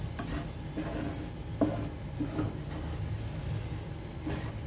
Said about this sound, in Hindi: धनिया पाउडर, कश्मीरी लाल मिर्च। मिक्स कर देंगे इसे।